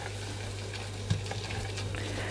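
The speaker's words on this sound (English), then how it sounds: "once the butter has melted, we're going to go straight in with the flour, and we're going to cook this for about 2 to 3 minutes" Flour stirred into melted butter in a pan for a lamb moussaka sauce, giving a steady low sizzle with soft scraping strokes and one brief clatter, close and continuous with no talking.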